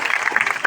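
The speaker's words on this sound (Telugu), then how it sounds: "గట్టిగా చప్పట్లు కొట్టండి" A church congregation at a healing service in a Guntur parish claps loudly in one brief burst, a dense patter of many hands close by with a murmur of voices underneath.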